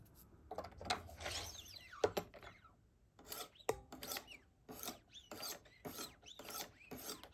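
A Wicked Edge sharpening system working a knife blade on 800 and 1000 grit stones, close up: repeated short rasping strokes in an irregular rhythm, with brief pauses and a few sharper clicks between passes.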